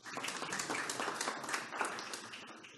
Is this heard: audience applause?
yes